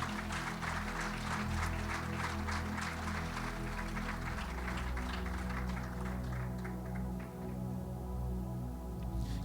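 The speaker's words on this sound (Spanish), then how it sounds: "Denle un aplauso a Jesús fuerte" A church congregation claps for Jesus, sustained broadband applause over a loud musical backdrop with steady tones, filling the whole stretch and easing slightly toward the end.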